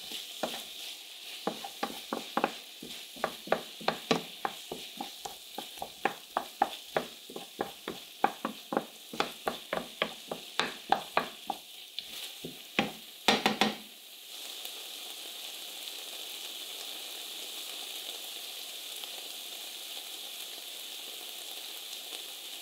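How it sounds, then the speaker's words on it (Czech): A spoon scrapes and stirs tomato purée through frying meat, carrot and onion in a pan, quick rhythmic strokes for about fourteen seconds, then only a steady soft sizzle remains. "A jenom to prostě zamíchám, aby to maso s tou mrkví a cibulí to pyré hezky obalilo."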